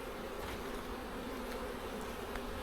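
Honey bees from a hive with a homemade queen hum in a faint, steady, agitated drone during an open hive inspection without smoke, with no talking.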